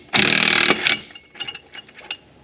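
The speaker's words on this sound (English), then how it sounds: "That's all there is to it with the clutch puller." An impact tool drives a clutch puller on a Polaris Ranger 900 with one loud half-second burst of hammering, a short second burst, then scattered clicks and clunks of parts shifting nearby.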